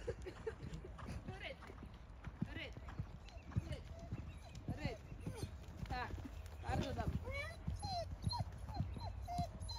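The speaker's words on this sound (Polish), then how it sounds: "No i bardzo ładnie podszedł ci super koń." A horse walks during an outdoor training session, its hooves clip-clopping in a steady rhythm nearby while a rider and trainer talk over it, with a dog yipping now and then.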